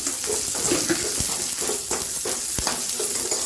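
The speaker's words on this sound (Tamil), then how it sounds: "இந்த இஞ்சி, இந்த பச்சை மிளகாய், இந்த புளி போட்டு நல்லா வதக்கிக்கணும்" Ginger, green chili and tamarind sautéing in a pan, with a steady broadband sizzle and a few sharp clinks of a spoon stirring against the metal.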